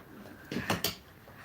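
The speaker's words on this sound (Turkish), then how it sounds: "Kapıyı kapatayım." An indoor door swung shut in a home, giving a brief pair of soft knocks and a thud close by, with no talk over it.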